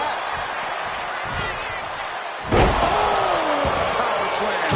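A wrestler's power slam in a WWE 2K25 match lands as one heavy, sharp impact midway through, over steady arena crowd noise and a commentator's voice.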